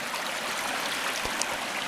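Murphy Brook pours through a rock chute in Kenomee Canyon, a steady, soft rushing and gurgling of water, fairly faint and continuous with no talk.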